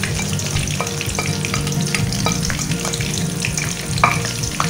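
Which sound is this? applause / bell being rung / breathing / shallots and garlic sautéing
shallots and garlic sautéing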